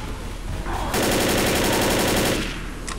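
A loud, rapid burst of machine-gun fire in Left 4 Dead, a dense rattle lasting about a second and a half, with gameplay noise before and after.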